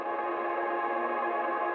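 Sustained synth pad drenched in long reverb with a 3.62-second decay, mostly wet and band-pass filtered to trim the lows, forming a steady, dense wash of tone throughout.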